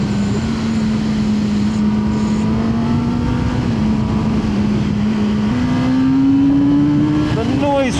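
A Kawasaki ZX-10R Ninja sports motorcycle gives off a loud, continuous engine and induction drone as it accelerates, rising and falling in pitch through gear changes before a final rise in revs.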